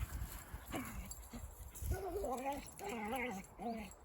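Puppies whimpering and yelping during play, a series of short high whines and squeals, close by, with some rustling and movement noise between them.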